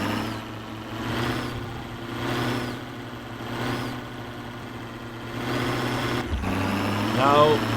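A damaged, broken-down car engine in a video game runs at a steady idle-like drone with rough harmonic hum, continuing throughout and swelling slightly louder near the end.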